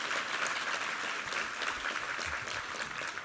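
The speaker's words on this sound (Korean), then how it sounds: "우리 하나님께 감사와 영광의 박수 올려드리겠습니다" A church congregation at a Sunday worship service claps in steady, enthusiastic applause, filling the hall with a continuous patter of many hands at moderate distance.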